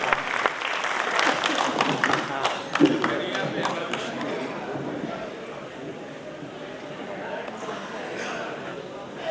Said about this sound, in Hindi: जोरदार तालियों के साथ आमंत्रण दें भाई श्री मनवीर मधुर को